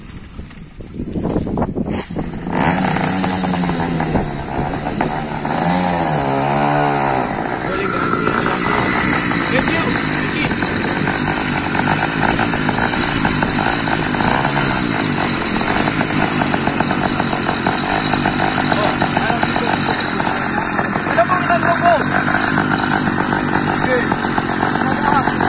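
A motorized bike engine revs hard and holds a loud buzzing roar throughout, starting up and climbing in pitch for a burnout on the ground.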